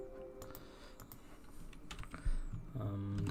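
Fingers type a PowerShell command on a computer keyboard, a quick run of close, crisp key clicks at an uneven pace, with a heavier thump near the end.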